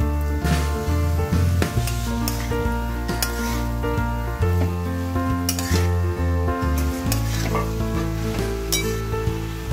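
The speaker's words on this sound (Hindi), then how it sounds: "बस इनको अच्छे से हम फ्राई करते हैं ताकि ये मसाले में अच्छी तरीके से एकदम कोट हो जाए" Potatoes and cauliflower frying in masala for a restaurant-style mixed vegetable dish, sizzling in the pan while a spoon scrapes and clinks against the metal in repeated stirring strokes over background music.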